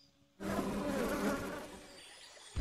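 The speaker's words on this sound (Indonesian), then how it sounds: "Si elemen madu kemudian melepaskan beberapa lebah untuk memberitahu Johim." Steady, loud buzzing of bees starts abruptly and drones on close by, fading slightly before cutting off.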